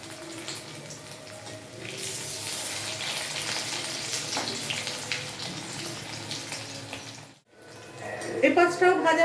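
Prawn fritters (chingri pakora) fry in hot oil with a steady, hissing sizzle for several seconds, then a brief pause before a voice speaks near the end.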